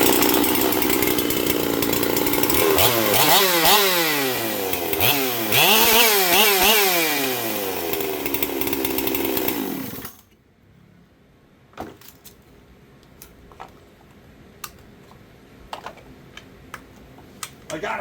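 Solo 81cc chainsaw revving hard for about ten seconds, close and loud with rising and falling engine pitch, then cutting off to near silence broken by a few faint clicks and taps.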